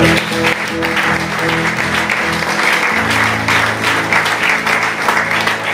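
A church congregation applauding to acclaim the Lord, a dense, steady wash of clapping hands sustained throughout, with sustained musical or vocal tones underneath.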